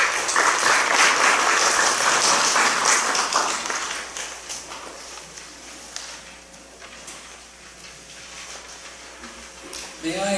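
Audience applause at the close of a talk at an annual seminar held in a place of worship, a loud dense burst of clapping that thins and fades over several seconds, with a few claps returning at the end.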